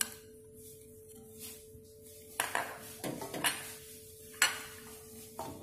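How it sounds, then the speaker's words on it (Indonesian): Spice paste being stirred in a pan with shredded coconut, cooking for a tilapia dish, giving scattered metallic scrapes and clinks of a utensil against the pan over a steady low hum, close and moderately loud. "Dan kita aduk"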